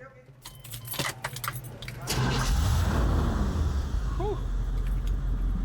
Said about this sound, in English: I have to start the car to pop the hood.